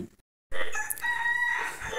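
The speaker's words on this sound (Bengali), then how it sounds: "এই কবিতরার মুরগির ফুটেজটা নিয়েছি আমার প্রিয় দিলারা আপুর জন্য।" A rooster crows once, loud and close, starting after a brief silence and holding a long drawn-out call.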